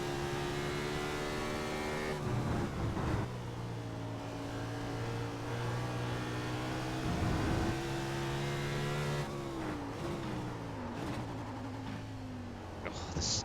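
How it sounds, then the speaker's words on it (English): NASCAR Ford Mustang engine in a racing game at Sonoma, its steady loud drone stuttering and dropping in pitch under braking, with brief revs and shifts throughout. "the stuttering there under braking"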